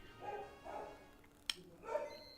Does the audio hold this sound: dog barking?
yes